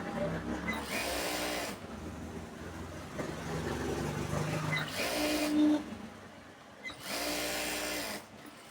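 A sewing machine runs in bursts while stitching a palazzo trouser seam, its motorized whir starting and stopping several times, with a voice talking quietly between runs.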